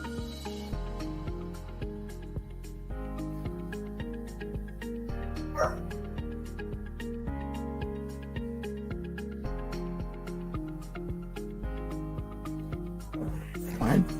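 A dog yips and whimpers intermittently at moderate distance beneath steady, looping game music, with brief louder bursts near the middle and end.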